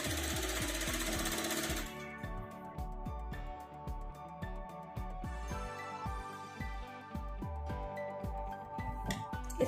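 Sewing machine stitching a baby frock: a rapid, rhythmic mechanical chatter of the needle pounding in even bursts, close and loud, with brief pauses between runs and no talk.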